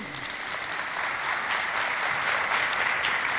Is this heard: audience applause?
yes